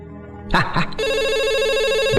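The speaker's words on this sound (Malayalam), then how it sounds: "ഫോൺ" A telephone rings loudly in a film scene as a sustained electronic tone that starts after a short burst of voices and continues steadily to the end.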